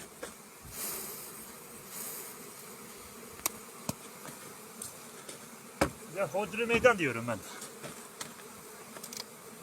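Close bee buzzing drones throughout, joined by a few sharp taps and someone speaking briefly in the middle.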